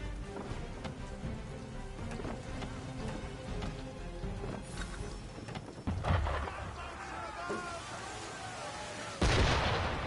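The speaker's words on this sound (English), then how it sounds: "Why is he shooting at us?" Cannons fired from an enemy ship in the video game Assassin's Creed III, booming in deep heavy blasts over rumbling, rain-like background noise, with a couple of louder hits later and some voices speaking.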